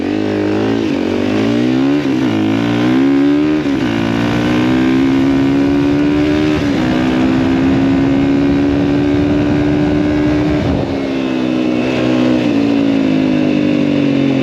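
A Honda CRF450 motorcycle accelerates hard off a race start, its loud engine climbing steadily through revs in a continuous, close-up roar with brief dips at gear changes.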